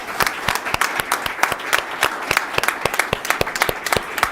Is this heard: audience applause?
yes